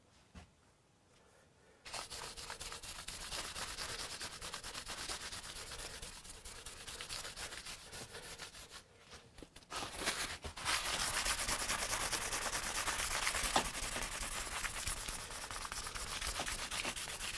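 Steady, close rubbing and sanding on a Hofner Galaxie guitar under restoration as excess is worked off its surface, a dense scratchy hiss running continuously after a brief quiet opening, briefly dipping midway before resuming louder.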